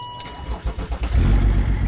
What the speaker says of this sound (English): Dave, see if it starts.